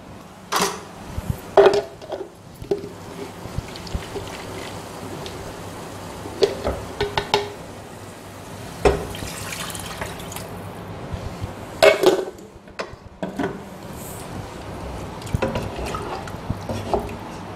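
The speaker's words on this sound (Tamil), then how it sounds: "கொஞ்சம் நம்ம தண்ணி சேர்த்துக்கலாம்." Water poured into a pot of bitter gourd sambar with a mixed masala base; close, light splashing and dripping with a few metal pot and utensil clinks scattered throughout, no talking.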